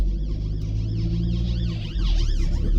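A wailing ambulance siren at a car crash scene sweeps up and down in steady repeated cycles, loud and close over a constant engine rumble, growing slightly louder toward the end.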